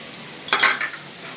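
Sliced onions, garlic and ginger dropped into hot oil for mutton sambar, a short burst of sizzling and stirring clatter lasting about half a second, close and clear with no talk.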